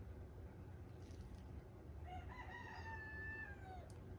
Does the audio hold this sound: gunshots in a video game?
no